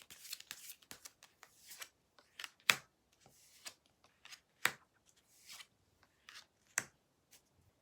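Tarot cards being shuffled and drawn, with a sequence of soft, crisp riffles and snaps at irregular intervals, close and quiet, with no voices.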